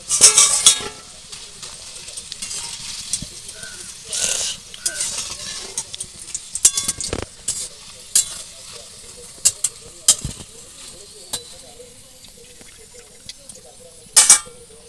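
Homemade potato chips fry in a pan of oil, giving a low sizzle broken by sharp clinks and scrapes of stirring and lifting, with occasional louder bursts.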